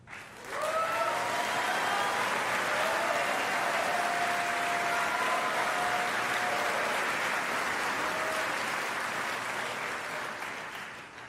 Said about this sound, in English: If y'all could wait till I finish the names before y'all clap, it'll be all day.